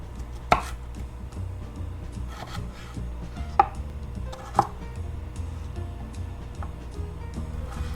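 A knife chops Brussels sprouts into quarters on a cutting board, with a few sharp, well-spaced thuds standing out over quieter, softer cuts, close and alone.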